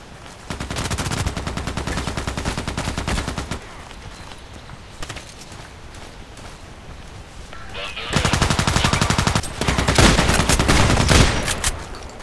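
Rapid automatic gunfire in the Contract Wars online shooter: loud, close bursts of fast repeated shots, a brief pause, then more sustained bursts, with no voices.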